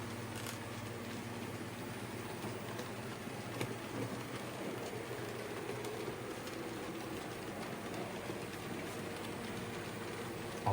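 An Accurascale Buckjumper model locomotive pulling a small coal train rumbles and clicks steadily along its track, a faint, continuous rolling sound with occasional light ticks, no voices.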